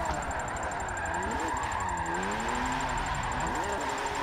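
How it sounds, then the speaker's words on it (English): A BMW M4 drift car's engine revs hard after a clutch kick, its pitch rising and falling in swooping sweeps, steady and close with no voices over it. "Clutch kick."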